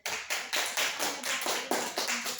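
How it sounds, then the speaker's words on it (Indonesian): A group claps hands together at an Indonesian class or group gathering: a steady run of sharp, close claps across the whole stretch, dense and fairly loud, with no talk over it. "Tepuk tangan"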